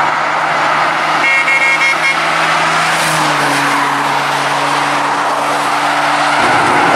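Vehicle cruising on a highway at about 75 mph while towing a trailer, producing a loud, constant roar of road and wind noise with a steady engine drone underneath.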